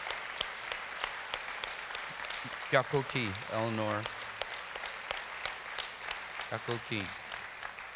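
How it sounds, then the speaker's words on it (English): Steady crowd applause at the Choctaw Nation State of the Nation address runs through the whole passage, a continuous patter beneath a speaker addressing a woman named Eleanor. "Let's give her a huge round of applause."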